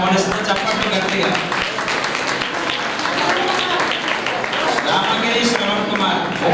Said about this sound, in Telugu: అలా మన ఆర్య సమాజం తన భుజాల మీద మోస్తున్నటువంటి శ్రవణ్ కుమార్ని వేదికపై ఆహ్వానిస్తూ చప్పట్లు గట్టిగా